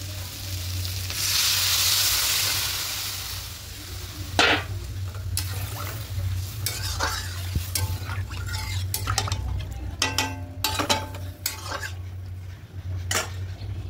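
Water poured into a sizzling pan of mung and chana dal with mixed vegetables, a brief loud surge of hissing, then clinks and scrapes of a spoon stirring against the pot.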